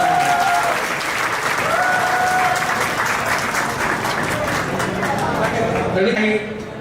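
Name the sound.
loud applause for a teacher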